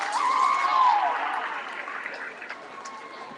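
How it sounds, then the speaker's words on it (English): Applause from a crowd seated in school bleachers at a middle school awards celebration, clapping that swells early and then tapers off, with a whistle and a voice audible. "So you all need to give yourself a round of applause for the outstanding job."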